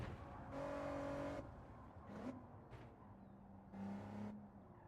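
An Acura NSX races in Gran Turismo 7. The engine note comes in short, fairly quiet bursts of rising and falling tone separated by brief gaps.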